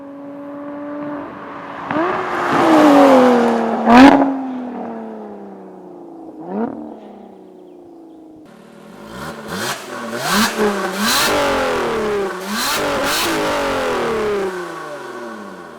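A Lotus Evora 400's mid-mounted 3.5-liter, 400-horsepower V6 revs repeatedly, rising and falling in pitch, then a series of sharp throttle blips with crackles; loud and close, no talking.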